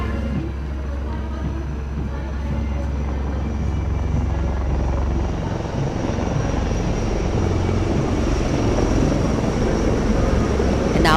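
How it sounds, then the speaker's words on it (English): Two Dhruv and two Rudra military helicopters fly past in formation during the Republic Day parade in New Delhi, a loud, steady rotor and engine roar that builds slightly over the clip. "The formation consists of 2 Dhruv helicopters and 2 Rudra helicopters, integrated with weapon systems."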